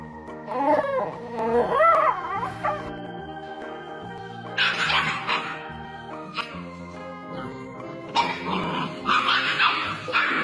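A dog growls and yips in bursts, with harsh rising vocal sounds close by, followed by sharper barks toward the end.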